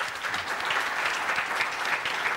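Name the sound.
audience applause for a man on stage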